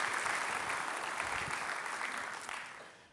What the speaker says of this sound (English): let's also give them a big round of applause